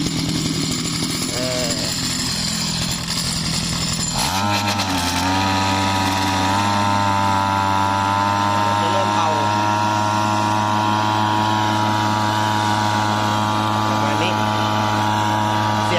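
A small gasoline lawn mower engine sputters, then starts and roars into a loud, steady running drone that continues close by without a break.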